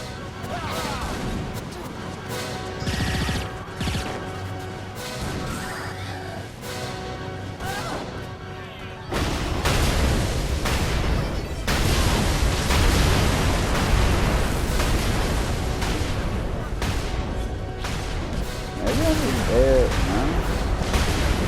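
A dubstep gun fires in Saints Row IV, laying loud, throbbing electronic wubs and bass blasts over a steady barrage of in-game explosions and gunfire. A voice talks briefly in the first part.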